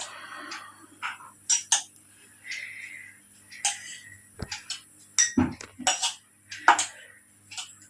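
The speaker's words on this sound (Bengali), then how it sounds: "যেহেতু হাত দিয়ে তোলা যাবে না, তাই এরকম একটা হাতা নিয়ে নেবেন।" A ladle scraping and clinking against dishes while lifting thin flattened rice for a mango snack, a string of light, irregular metallic taps close by, with a few soft speech-like sounds between them.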